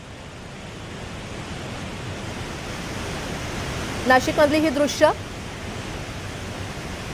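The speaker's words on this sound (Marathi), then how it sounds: "गिरणा नदीतून पाण्याचा विसर्ग इथे सुरू करण्यात आलेला आहे" Water released through six opened dam gates roars down the Girna river near Nashik in a steady, full-bodied rush, with a person speaking briefly over it partway through.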